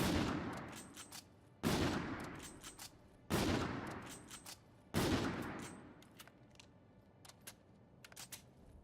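The Big Brother gun fires in a video game: four loud, sharp blasts spaced evenly apart, each trailing off in a ringing decay, followed by a few quieter clicks and taps.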